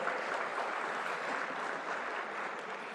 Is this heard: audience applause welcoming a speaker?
yes